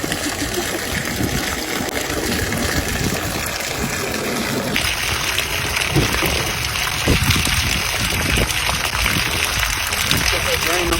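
Water gushes and pours continuously at a steady level as a pump empties a flooded boat bilge left without its drain plug, with a low mechanical rumble and faint voices underneath.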